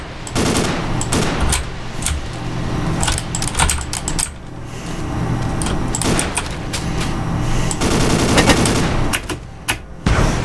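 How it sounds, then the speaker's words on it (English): Repeated bursts of gunfire from enemy players in the blocky first-person shooter Ace of Spades, loud and near, with rapid volleys and single shots cracking across ten seconds of dense battle noise. "They're shooting at me."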